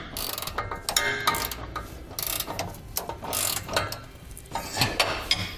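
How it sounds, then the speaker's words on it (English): Flange nuts being tightened and torqued on the hardware of an Air Lift LoadLifter 5000 Ultimate rear air helper spring, with busy metallic ratcheting clicks and rattling in uneven bursts, close by. "Then we're going to tighten and then torque all of our hardware to the specifications and the instructions."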